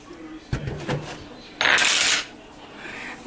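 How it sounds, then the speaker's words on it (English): Patty Brown metal measuring spoons rattle and clink while being handled in a home kitchen, in a couple of short jangling bursts and one louder, longer clatter. "Handy dandy, Patty Brown measuring spoons."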